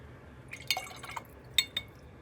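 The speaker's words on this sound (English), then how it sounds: "Put a little more water in here to blend it a little bit." Water trickles and drips into paint to blend it, with a few soft, splashy drips spread across a quiet couple of seconds.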